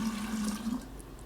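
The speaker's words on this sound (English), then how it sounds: "you're also going to want to pour in some cold water on top of that to cool it off" Cold water poured onto hot tea while making kombucha: a brief, quiet gushing splash that runs steadily for about a second.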